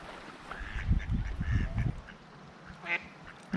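Ducks quack in a short burst of calls near a dam on a steep-trail hike, with a few more scattered calls afterward, moderately close over faint outdoor background.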